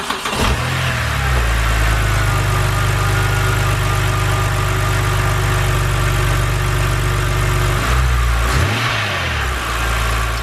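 A BMW N52 inline-six fitted with a Mishimoto intake pipe cranks and fires up, settling into a loud, steady close-up idle before a brief dip and a second catch near the end.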